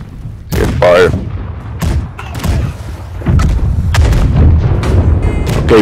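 Ship cannons fire in a pirate naval battle video game, heavy booms repeating across the clip with rumbling thuds between them, while voices talk over the action.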